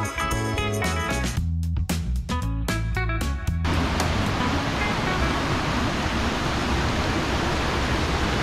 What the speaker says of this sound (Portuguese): E estamos chegando na terceira cachoeira, que é... Colibris. Cascata Colibris.